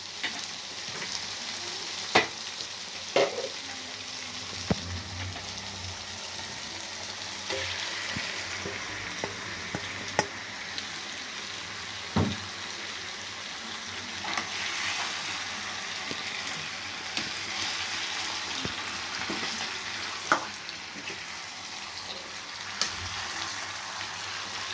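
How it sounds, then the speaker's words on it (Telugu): Marinated chicken frying in a pan of spicy chicken curry, a steady close sizzle with scattered stirring clatters and pops throughout, no talking. "ఇప్పుడు మనం మ్యాగ్నేట్ చేసి పెట్టుకున్నాం కదండి చికెను లైట్గా, సో అది ఇందులో వేద్దాం"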